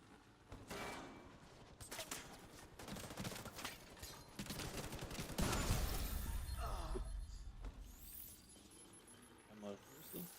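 Sniper rifle shots ring out in The Division 2, with sharp bursts scattered through a busy stretch of gunfire and mechanical clatter, loud and close, while a player talks over the action.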